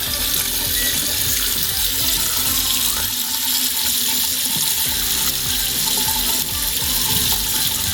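Water pours steadily from a tap in an RV, flushing the water heater, a constant hissing rush close by with no voices.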